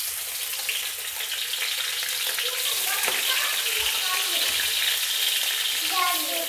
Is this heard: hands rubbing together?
no